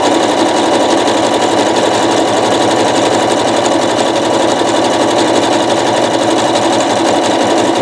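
A sewing machine stitching a coiled rope bowl runs continuously at a fast, even pace, loud and close, with a steady rapid mechanical chatter and no pauses or voices.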